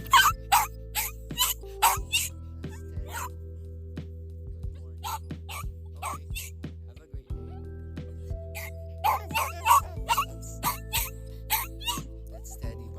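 A Shih Tzu named Teddy barks outdoors in clusters of short, sharp yaps, near and fairly loud, with quieter gaps and a steady low hum underneath.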